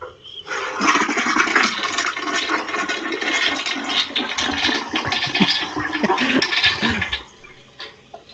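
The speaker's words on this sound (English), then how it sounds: "What happens when we flush?" A toilet flushes with a loud rushing of water that starts abruptly, holds steady for several seconds and then drains away to quiet.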